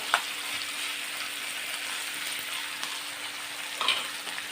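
Sliced okra frying in an oiled pan, a continuous close sizzle and hiss with a couple of faint stirring clicks, no voices.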